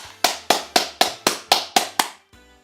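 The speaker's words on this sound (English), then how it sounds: "I don't think the applause is necessary." Eight crisp, evenly spaced claps ring out in a steady rhythm, close and clean, from a slow round of applause in the fighting game Persona 4 Arena Ultimax, ending with a faint soft tap.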